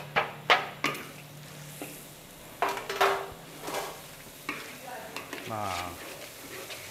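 Chopped onion and spring onion frying in a pan, with steady sizzling broken by several sharp clinks of a utensil stirring against the pan, and a brief voice in the background.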